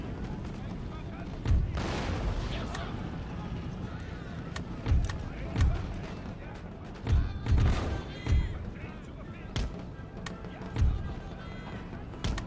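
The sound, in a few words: musket gunfire in battle, video game Empire: Total War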